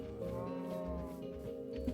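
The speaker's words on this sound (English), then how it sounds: "which means that I just have a chain of cows." Cows mooing in the video game Minecraft, a chain of leashed cows lowing in a steady, drawn-out, fairly loud tone that swells over two seconds with no talk over it.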